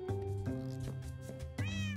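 A cat meows repeatedly in a loud, drawn-out series of yowls, close by and continuous, with no talking over it.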